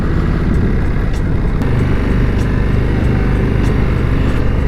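A new Indian Scout motorcycle with its stock exhaust drones steadily while being ridden, a loud continuous buzzy engine note with wind rush and no speech.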